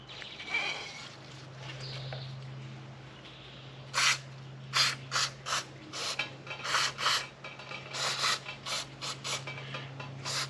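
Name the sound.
spraying brake cleaner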